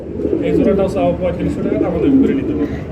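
A male fancy pigeon coos repeatedly up close, low throaty rolling calls, with people talking underneath at a pigeon farm.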